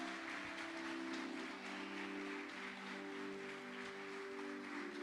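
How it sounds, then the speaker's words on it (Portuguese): A church congregation applauding during a worship service, a steady, dense wash of clapping that stays even and continuous throughout, heard from within the hall with a sustained tonal hum beneath it. "eu quero que você aplauda ao Senhor"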